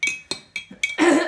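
A spoon stirs salt into water in a glass, giving four sharp clinks spaced evenly apart, then a longer scraping swirl against the glass, close and clear with no talking.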